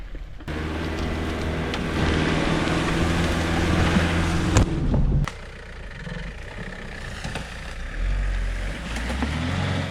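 A 4x4 with upgraded tires and a winch revs steadily as it noses into a mud hole, its engine droning loud and close, then easing off briefly before picking back up.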